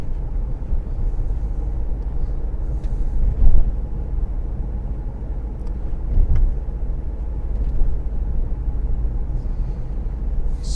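Steady low engine rumble and road noise from inside a car driving from Broadstairs to Margate, with a few slightly louder swells as it moves along, and no talking.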